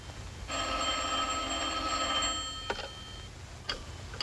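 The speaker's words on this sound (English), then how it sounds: "I was asleep when the telephone rang." An old telephone bell rings in a 1947 crime film, one sustained metallic ring about two seconds long followed by a couple of short clicks, faint and with no voices.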